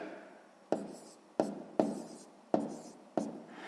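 Pen strokes writing numbers by hand on paper during a sixth-grade maths multiplication exercise, five sharp taps and scratches spaced irregularly, close and fairly quiet, with no talk.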